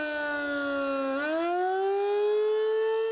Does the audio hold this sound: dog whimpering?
no